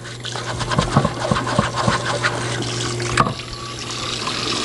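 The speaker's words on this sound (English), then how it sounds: "We'll get some warm water." Warm water runs steadily from a faucet into a sink for a few seconds, a continuous splashing wash with some scraping knocks and clatter mixed in, with no talking.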